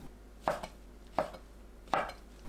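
A knife slices shiitake mushroom caps on a cutting board in three evenly spaced, crisp chops, close and clear over a quiet background.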